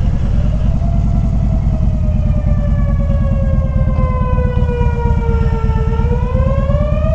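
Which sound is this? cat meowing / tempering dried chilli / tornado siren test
tornado siren test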